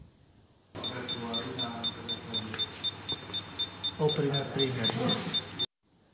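An insulation resistance tester set to 5000 volts, testing a current transformer, beeps in a steady stream of rapid high-pitched pulses. Someone talks over it throughout.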